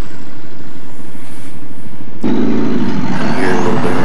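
A turbocharged off-road buggy engine out in the woods: a faint low rumble first, then it suddenly swells into a loud, steady, rough roar that holds to the end.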